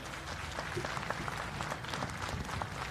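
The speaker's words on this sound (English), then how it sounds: "let's give these guys a big round of applause for today" Audience at a fishing-electronics seminar claps for the event crew, a steady mid-level patter of many hands with scattered louder claps, fairly close and sustained throughout without talk.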